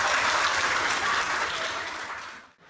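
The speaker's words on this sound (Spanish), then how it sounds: "Ahora les pedimos un enorme aplauso para nuestras 6 candidatas" Sustained applause rises from a crowd at a village corn festival for six beauty pageant candidates in their gowns, steady and full before dying away at the end.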